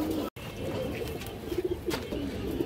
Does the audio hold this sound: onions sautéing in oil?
no